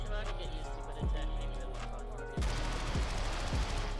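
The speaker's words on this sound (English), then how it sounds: "I'm shooting at something and I guess I missed all the shots?" Gunfire from Modern Warfare night-vision gameplay cracks in several separate heavy shots with booming low tails, over game ambience and someone talking.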